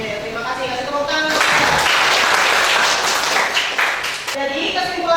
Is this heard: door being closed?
no